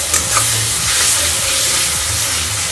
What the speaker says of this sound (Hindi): यहाँ फ्राई हो रहा है मसाला